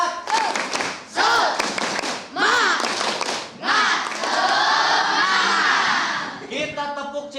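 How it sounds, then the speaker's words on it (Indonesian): Junior high students at SMPN 2 Banjaran perform a tepuk semangat clapping chant, loud bursts of group shouting mixed with rhythmic claps and thumps in several surging phrases, ending in a flurry of claps. "Tepuk semangat."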